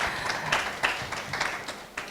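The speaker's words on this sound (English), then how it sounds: "Round of applause, please," Brief, moderately loud audience applause at a talk, a scatter of claps blending into a continuous wash for a couple of seconds.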